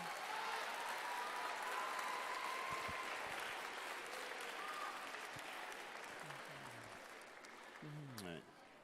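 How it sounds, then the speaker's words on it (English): Sustained audience applause fills a school academic competition hall for several seconds, dense and steady before tapering slightly near the end, with a few faint voices and brief tonal sounds underneath. "another round of applause."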